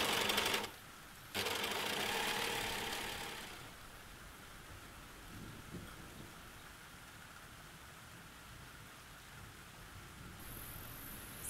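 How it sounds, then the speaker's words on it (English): An overlocker runs in a loud rapid whirring burst stitching open fabric edges, pauses briefly, runs again, then stops, leaving quiet background hum. "So now we overlock all of our open edges"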